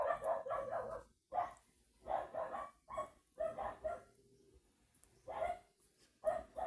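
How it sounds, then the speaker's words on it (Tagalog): A dog barks in repeated bursts of two to four quick barks with short pauses, fairly close and alone, with no voices over it. "Pasensya na po sa ingay ng aso."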